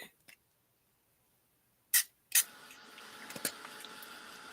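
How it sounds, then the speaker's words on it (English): A spray bottle mists water onto dry paper in two quick hissing spritzes, fairly close, followed by a low room murmur. "I just sprayed it directly to the dry paper."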